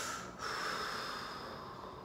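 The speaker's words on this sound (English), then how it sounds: "taking maybe a deep breath in, deep breath out" A person holding a deep sleeper stretch takes a slow breath, a soft airy inhale and exhale close to the mic, quiet and unvoiced.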